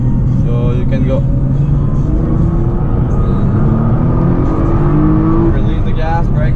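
Nissan GT-R at full throttle on a racing circuit, its engine roaring loud and close with pitch climbing steadily as it accelerates, filling the cabin, with faint voices underneath.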